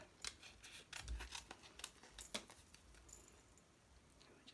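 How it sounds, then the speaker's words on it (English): Close, quiet snips of scissors cutting through card, several irregular cuts with soft rustling in between. "Just allowing your scissors to fall into that gap."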